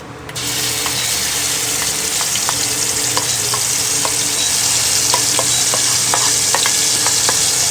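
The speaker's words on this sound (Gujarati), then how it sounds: "હવે છે ને આપણે જે આ પેસ્ટ બનાવી હતી ને, એ પેસ્ટ આપણે નાખી દઈએ" Spice paste sizzles loudly in hot oil with cumin for Kashmiri dum aloo, the frying hiss bursting in as the paste hits the pan, then a steady crackle with clicking spoon strokes as it is stirred.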